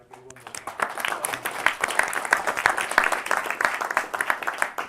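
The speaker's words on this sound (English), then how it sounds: "They all deserve a huge round of applause." An audience at a business competition applauds its finalists with a steady, dense clapping that fills the whole stretch at a fairly loud level.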